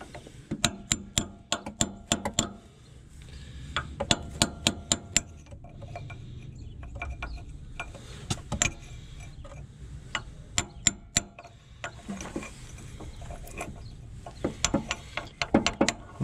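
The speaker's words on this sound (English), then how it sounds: "So the next process is going to be a hammer and a chisel." Hammer and chisel striking a forklift assembly in a cramped space: clusters of sharp, fairly faint metallic taps with quiet gaps between the runs.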